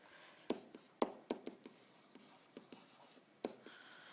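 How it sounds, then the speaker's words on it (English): A pen scratches down notes on paper in a quiet room, a few short scribbling strokes and taps spaced irregularly, close and soft. "I'm just going to write down"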